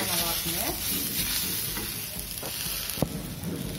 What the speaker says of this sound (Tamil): மாங்காய் ஒரு மூணு நிமிஷம் வதங்கினா போதும்